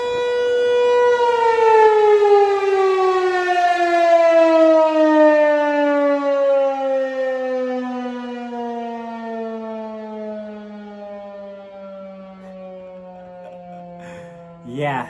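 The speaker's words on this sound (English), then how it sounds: "We have a tornado siren." An outdoor tornado siren wails loud and steady, its rising-and-falling tone sustained throughout, with a brief voice near the end.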